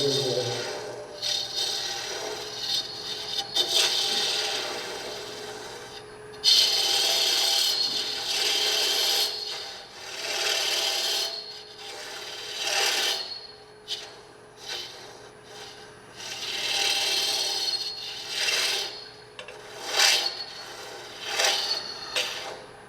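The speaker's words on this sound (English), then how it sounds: "Now this hollowing I'm doing, I just prefer to use my hollowing tool, but you could do this with a gouge." Wood being hollowed out by hand with a hollowing tool, long rasping scrapes repeating in uneven bursts with short pauses between strokes, close and clear, no talking.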